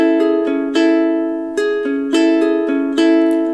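Bright ukulele chords strummed in a steady rhythm, each strum ringing out and decaying before the next, close and clear with no voices.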